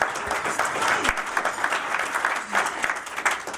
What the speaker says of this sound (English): If everyone would do a round of applause,